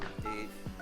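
Telephone keypad tones sound during a call, two short dialing beeps spaced about half a second apart over a steady background hum.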